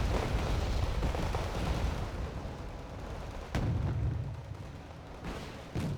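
A Challenger 2 tank fires in the video game Wargame Red Dragon, giving a heavy, rumbling cannon boom amid a dense battlefield din, with a second sharp report a few seconds later and another near the end.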